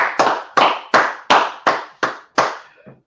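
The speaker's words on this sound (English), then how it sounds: "All right, go ahead and clap it up." Audience clapping at an Israelite School of Universal and Practical Knowledge gathering, heard as seven sharp, evenly spaced bursts of applause, loud and close, with no talking over them.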